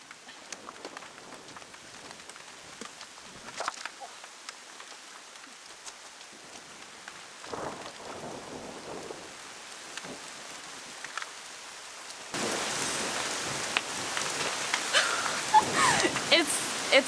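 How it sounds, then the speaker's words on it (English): Rain falling on a backyard vegetable garden, a steady close hiss of drops on surfaces that suddenly grows heavier and louder partway through. "I really didn't think it was gonna rain today."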